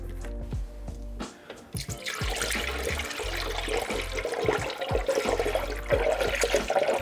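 Green antifreeze glugs and splashes as it is poured into a Mazda Miata's cooling system, a close, continuous liquid rush with drips and gurgles after a few scattered opening taps.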